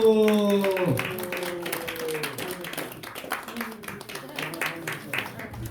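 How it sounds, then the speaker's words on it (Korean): Church congregation applauding during a certificate-of-appreciation ceremony, a burst of many hands clapping that rises quickly then continues as dense, fairly loud applause, with a voice speaking at the start. "박수"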